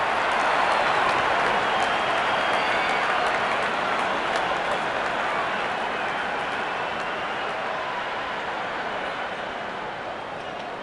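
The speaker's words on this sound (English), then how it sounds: "There's such a wonderful crowd in to watch their favorite players." Stadium crowd in a cricket video game during an India vs England T10 match, a dense, steady roar of applause and cheering that stays loud throughout and fades only slightly toward the end.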